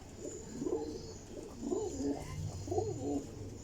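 Teddy Golden flying pigeons coo in three distinct throaty, rolling bursts, fairly near and moderately quiet, over a low background murmur and with no speech.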